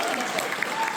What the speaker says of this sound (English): Can we get a round of applause for all the teachers?